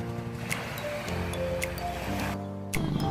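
Calm sea at Blue Island Resort in Tabaco, Albay, a soft continuous wash of gentle waves with faint splashes and drips close by.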